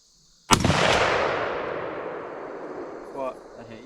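A single deer rifle shot cracks out sharply at a 100-yard range, loud and close, with a long rolling echo trailing off over several seconds. Faint voices stir near the end.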